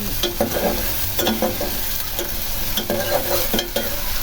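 Spices sizzling in hot oil in a pan for a Bengali fish curry with tengra fish and cauliflower, with steady close frying crackle, periodic scraping stir strokes, and no voices.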